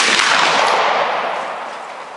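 A black powder cartridge rifle fires a single loud, booming shot up close at an outdoor range, the blast trailing off into a long, slowly fading rumble.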